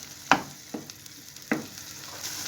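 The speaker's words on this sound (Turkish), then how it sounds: "bir yemek kaşığı salçam ekliyorum ve kavuruyorum" Tomato paste sautés in a pan with a soft, low sizzle, broken by a few distinct clinks and scrapes of a spoon stirring at irregular intervals.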